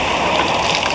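Steady broadband rush of hot spring water flowing and gushing, loud and continuous for the whole second with no voices.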